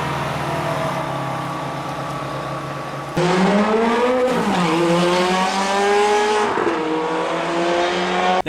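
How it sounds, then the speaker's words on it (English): A Ferrari 430 Scuderia Spider's engine drones steadily, then revs louder and sweeps up and down through the gears, loud and close with no talking. "Next up, the, once again, ultra rare Ferrari 430 Scuderia Spider."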